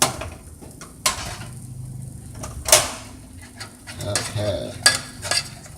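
A hot pan shifted on a stovetop, metal scraping and clanking in a few sharp knocks over a soft background sizzle, close by, with a brief spoken word.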